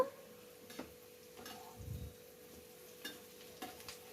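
Vegetables frying in a pan as a faint, low hiss under a steady hum, with a few soft spatula scrapes and taps scattered through.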